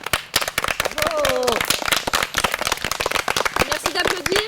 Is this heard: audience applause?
yes